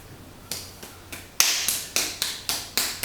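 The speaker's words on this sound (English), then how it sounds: "I'm just knocking up a bit of clay" Clay being wedged in a pottery studio makes sharp, evenly spaced slaps, about eight of them in quick rhythm, close and fairly loud over a quiet room.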